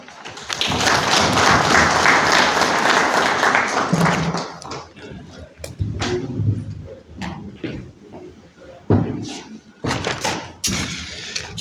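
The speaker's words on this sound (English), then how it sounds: "Once again, a round of applause to the General Manager, Mr. Magaramombe" A room breaks into loud applause for several seconds after a formal speech, then it thins into scattered claps, thumps and shuffling.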